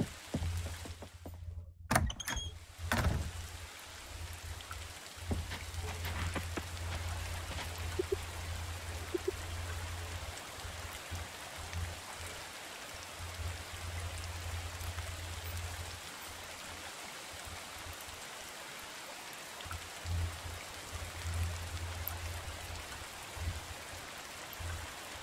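Rainfall in the farming game Coral Island, an even hiss of patter lasting throughout, with a few sharp knocks near the start over a steady low background hum.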